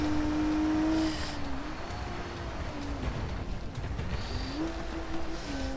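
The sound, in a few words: rally car engine at full throttle in BeamNG.Drive video game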